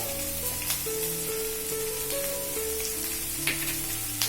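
Puffed rice poha with capsicum and turmeric frying in a pan, a loud continuous sizzle close by with occasional stirring scrapes and faint tonal background hum.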